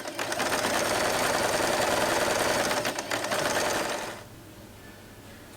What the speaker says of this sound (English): Fold in half and sew a straight line.